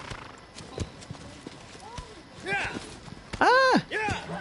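A horse gallops in Shadow of the Colossus, with rhythmic hoof clip-clops and a couple of loud whinnying neighs near the end, while a voice talks over it.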